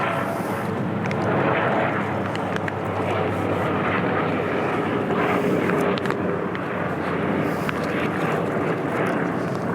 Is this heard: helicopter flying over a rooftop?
yes